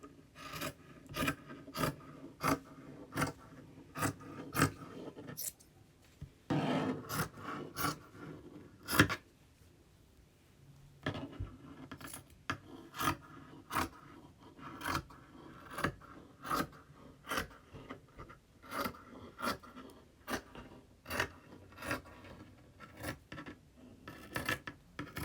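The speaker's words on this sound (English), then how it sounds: "I will just cut it to size and then trim" Scissors cut and trim fabric for a sewing costume, a white jumpsuit, giving rapid rasping snips in quick bursts with short pauses, close and fairly quiet with no talking.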